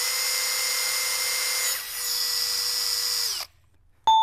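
A hammer drill from a comparison that includes Metabo HPT and Kobalt XTR models whines steadily at high speed, its pitch dipping briefly midway, then cuts off abruptly, followed by a short burst as it starts again.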